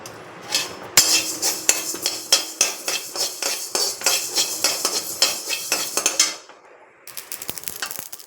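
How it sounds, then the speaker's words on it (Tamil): Mustard and fenugreek seeds roast in a pan over a low flame for a curry leaf thokku, with a quick metallic scraping and clinking of a spoon stirring close by, pausing briefly before resuming. "கடுகு நல்லா பொரியணும், வெந்தயமும் நல்லா செவக்கணும், அது வரலாம் வறுத்துடுவோம்."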